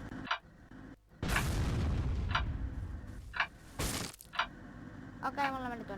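Cannon fire in the Roblox game Build a Boat: sharp cracking booms and a sustained roaring blast, loud and close, interspersed with quieter game effects and brief spoken voices.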